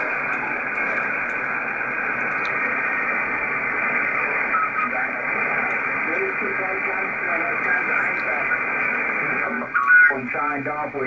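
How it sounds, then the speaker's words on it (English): A FlexRadio 6700 direct-sampling transceiver receiving an amateur band, giving a steady band-limited hiss and noisy static with faint signals drifting through, and a short burst of chirpy tones near the end. "So the radio covers any amateur band."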